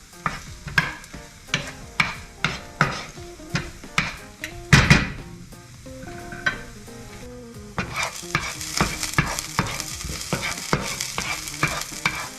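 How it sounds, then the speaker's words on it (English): Onions sautéing in a pan for a broccoli salad, sizzling steadily while a spoon or spatula scrapes and stirs in regular strokes, a louder clatter midway, with no talking. "these onions are browning nicely, and so they're getting a little bit crisp now"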